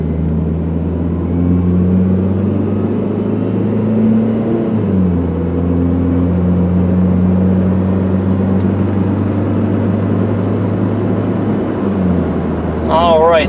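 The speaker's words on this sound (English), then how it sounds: "accelerate all the way up to the speed limit" A silver 2002 Dodge Neon pulling out and accelerating to about 55 mph, a loud steady engine drone inside the cabin that rises through a gear change midway, with a brief voice near the end.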